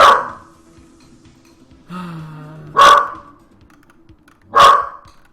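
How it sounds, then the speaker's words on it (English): A dog gives two loud, sharp barks spaced about two seconds apart, each standing out in a mostly quiet room, with a brief lower whine or growl just before the second. "Dog is excited about something."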